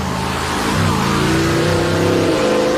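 A 1931 Chevrolet fire truck converted into a wheelstander roars and revs steadily, its deep vintage engine rumble rising in pitch as it strains under load.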